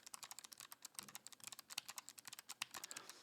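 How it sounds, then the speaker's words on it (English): Clicky mechanical keys on a Logitech G915 keyboard are pressed in quick, uneven bursts, each sharp click close and distinct, with no talking. "just kind of click some of these keys for you so you can get an idea"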